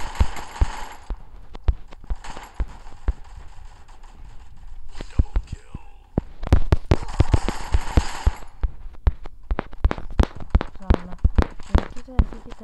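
Sharp gunshots and thudding blasts in a Free Fire team deathmatch, scattered irregular cracks and bursts with a denser flurry midway, mixed with footsteps and game effects.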